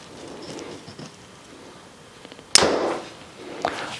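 A Mathews Lift compound bow shot outdoors, a single sharp loud release snap followed by a brief buzzing decay, preceded by quiet handling noise, with a second smaller thud shortly after.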